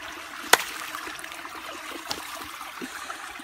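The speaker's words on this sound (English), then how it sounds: "With the nice, relaxing waterfall in the background" A waterfall flows in the background as a faint, steady wash of rushing water, broken by a couple of brief sharp clicks nearby.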